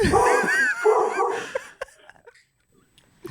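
An indoor dog gives a burst of high, excited yipping barks up close that fade into whimpers and small shuffling noises. Then it goes nearly quiet apart from a couple of faint clicks.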